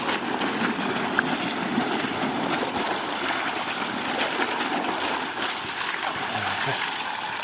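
A constant, forceful spray of water from a pipe hisses nearby, a dense splashing roar throughout with a voice speaking over it.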